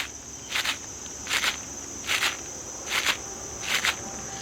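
A Tree Thrasher deer call imitates a deer walking through leaves. Five evenly spaced, crunchy rustling steps sound close by over a constant background insect drone.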